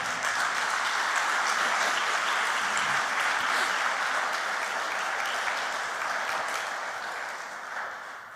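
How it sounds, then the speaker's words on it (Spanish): A church congregation breaks into sustained applause for the Lord during a Spanish-language sermon, a dense wash of many hands filling the room and gradually tapering off near the end. "Denle un aplauso al Señor"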